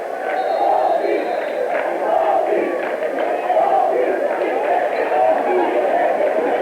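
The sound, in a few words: basketball crowd chanting at the referee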